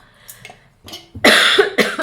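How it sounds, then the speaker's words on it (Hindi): Several coughs in quick succession, the later ones harsh and loud, close to the listener with short pauses between bursts. "अभी भी काफ़ी खांसी आ रही है मुझको।"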